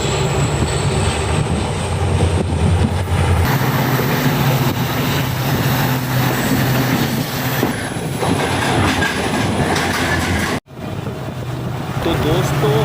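Mangala Lakshadweep Express train running on rails, a continuous loud rumble of wheels with squeal and rattle that drops abruptly near the end, as if entering a tunnel.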